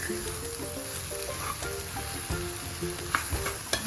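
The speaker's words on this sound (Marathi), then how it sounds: "तर छान परतून घ्यायची भाजी" Potato bhaji filling for masala dosa being sautéed in a pan, a steady close sizzle with soft scraping and stirring knocks, no voices.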